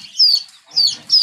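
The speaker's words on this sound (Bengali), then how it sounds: "এই বাচ্চাটা হচ্ছে কোচিন, এটা হচ্ছে কোচিন মুরগি, ব্ল্যাক কোচিন হবে" Three high, thin peeps from a black Cochin chicken chick, each a short descending chirp, spaced about half a second apart, close and clear with nothing else behind them.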